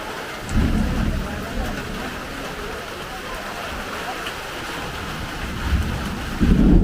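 Rain falls steadily around a vehicle on a trip toward Wayanad, a broad constant hiss with rumbling low wind noise and a few heavier gusts near the start and end.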